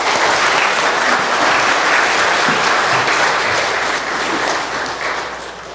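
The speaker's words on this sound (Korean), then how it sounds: "사랑으로 따뜻한 박수로 맞아주셔서 감사합니다" A Korean Presbyterian church congregation in Minnesota claps warmly to welcome a visiting pastor: loud, dense, sustained applause from a large room that fades slightly near the end, with no talk over it.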